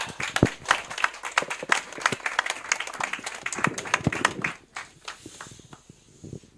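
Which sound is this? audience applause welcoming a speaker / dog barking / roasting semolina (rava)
audience applause welcoming a speaker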